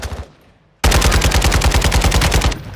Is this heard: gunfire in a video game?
yes